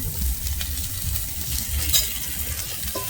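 Cauliflower fries and sizzles in a pan, a continuous close hiss with light stirring scrapes and no voices.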